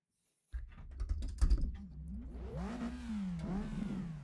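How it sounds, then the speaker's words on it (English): Computer keyboard keys clatter in a quick burst near the start, then give way to a rising and falling car engine rev in the background. "There goes my keyboard."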